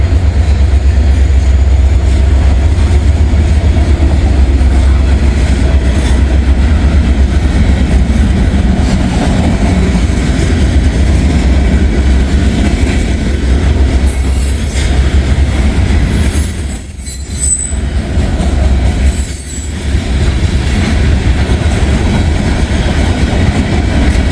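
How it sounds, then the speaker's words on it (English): A long CSX freight train hauling huge stones and some coal rolls steadily past close by, a continuous loud rumble of wheels and cars with faint squeals, easing briefly as the last cars go by. "there goes the end of that CSX train"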